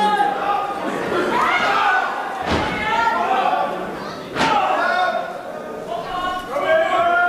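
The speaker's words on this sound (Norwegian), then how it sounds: "Og får bortimot drept Sven Berg med en stol I ringen." A steel chair strikes a wrestler in the ring during a pro wrestling show, landing as two sharp, heavy thuds a couple of seconds apart beneath continuous excited commentary.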